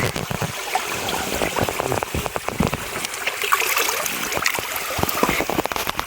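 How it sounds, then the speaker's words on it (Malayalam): Water flowing over and beneath rocks at a natural stream on a Kerala hillside, a steady broadband rush with scattered splashy ticks, fairly close and continuous throughout. "താഴെ എവിടെയോ വെള്ളം ഒഴുകുന്നുണ്ട്"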